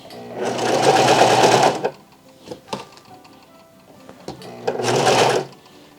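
A Vevor industrial sewing machine stitches fabric in two rapid buzzing runs, each lasting over a second, separated by quiet clicks and handling noises as the cloth is pulled and repositioned.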